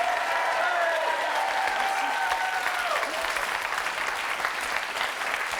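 A television studio audience applauds warmly, a dense, even wash of clapping that holds steady throughout, with a few voices faintly audible underneath.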